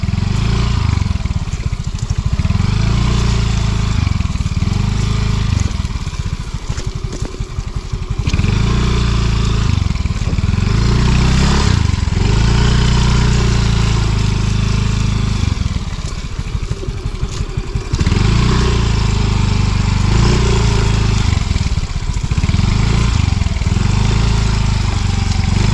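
A low-slung motorcycle engine running on muddy ground after rain, a loud close rumble that repeatedly revs and surges in strained bursts as if working through the mud, with no clear talk over it.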